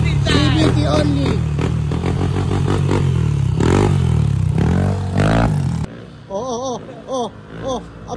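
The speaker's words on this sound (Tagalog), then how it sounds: "Ayan ay Aerox ni Bossing. From Cainta, Rizal" Yamaha Aerox scooter engine revving during a test, loud, rising and falling bursts with mechanical clatter, followed by quieter gaps where people talk over the idling motor.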